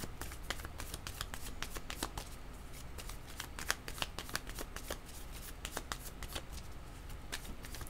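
Tarot cards are shuffled by hand for a reading, giving a steady run of quick, crisp riffling snaps up close, with no voices.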